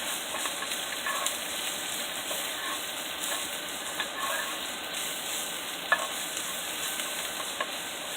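Onions and garlic fry in a pan with a steady bright sizzle and hiss, plus occasional soft stirring ticks, close and continuous, with no talk.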